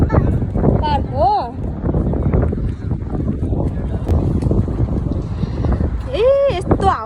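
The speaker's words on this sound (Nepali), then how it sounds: "ए यस्तो हावा चलेछ." Gusty wind roars steadily across an open park on a windy evening walk at a cornice, a loud continuous rush buffeting the microphone while people talk over it.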